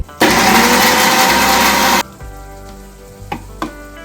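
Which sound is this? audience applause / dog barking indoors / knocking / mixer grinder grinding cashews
mixer grinder grinding cashews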